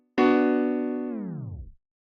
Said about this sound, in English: a tape stop effect sounds like this.